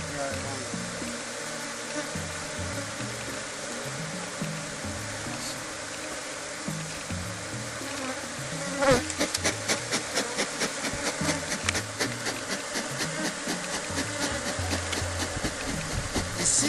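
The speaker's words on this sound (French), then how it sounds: "Ici, les abeilles sont plus violentes" Bees swarm around the hives of a honey farm beside medicinal plants, a continuous droning buzz close by that grows busier and more agitated partway through, with faint speech underneath.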